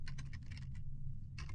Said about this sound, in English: So if I type in my date